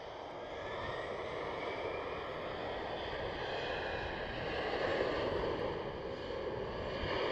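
A jet airliner rolls on takeoff from runway 36L at Amsterdam Schiphol at night, a faint, distant, steady engine rumble and hiss that swells slightly midway, with no talking.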